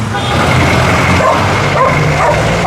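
Dog barking and yipping on a busy street during a traffic violation stop involving a trailer truck, heard as loud short bursts over a dense wash of traffic and crowd noise.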